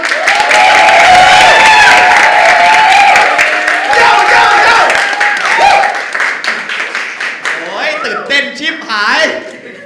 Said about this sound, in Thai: ขอเสียงปรบมือดังๆต้อนรับคังโป้ยครับ